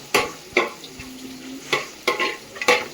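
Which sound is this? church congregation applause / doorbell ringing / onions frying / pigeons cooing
onions frying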